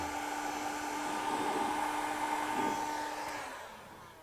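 A heat gun blows steadily with a whirring hum while shrinking heat-shrink tubing on wires for Chevy C10 LED side marker lights, then its tone drops and fades near the end.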